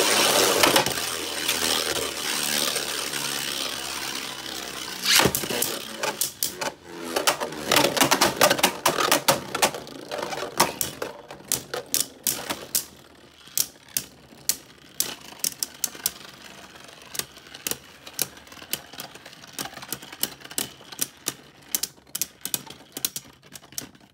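Roar Bahamut top from a Beyblade Burst DB random booster, fired from a sparking launcher: a loud whirring rip and hiss of the launch, then a run of sharp metallic clicks and clacks that grow sparse as the top spins.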